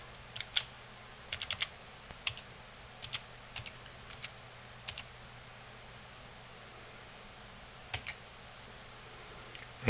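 Quiet, close keystrokes on a computer keyboard as a password is entered, scattered taps in short irregular bursts with pauses between them, over a low steady room hum and no speech.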